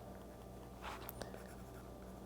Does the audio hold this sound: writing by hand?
yes